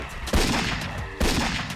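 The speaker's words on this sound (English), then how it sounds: "then you hear gunshots off in the distance" Two loud gunshot bursts in a cartoon, each a sharp crack followed by a sustained rumbling echo, the second arriving about a second after the first.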